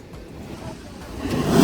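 Rushing sea water and waves at Salalah make a broad, steady roar with wind noise that swells louder toward the end.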